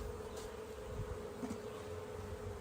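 Honey bees buzz around a beehive, a continuous close, faint hum with a steady drone and individual bees flitting past now and then.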